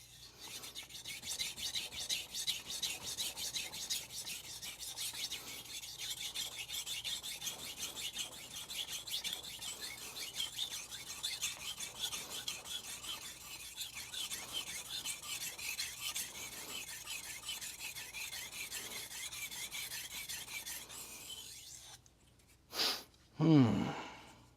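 Shirogami 2 steel santoku blade sharpened on a sintered ruby 3k whetstone, a continuous close rasping scrape of rhythmic strokes, ending with a couple of brief knocks.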